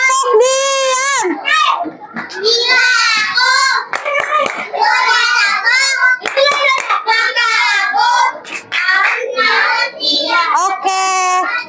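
Elementary schoolchildren in a classroom perform a chanted clapping routine, their loud, close voices rising and falling in a sing-song chant over a run of sharp hand claps.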